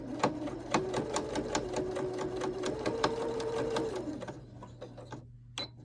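A sewing machine back stitches a fabric face mask with a quick, steady rattle of needle strikes for about four seconds, close and moderately loud, then it stops with a few soft clicks.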